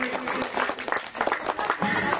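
A crowd claps and cheers for a girl at a Ganpati festival celebration, with steady applause running throughout and a voice talking over it.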